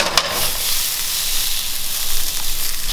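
Sausages cooking on a barbecue for an Australia Day sausage sizzle: a loud, steady, close hiss of frying fat that runs unbroken throughout, with no voices.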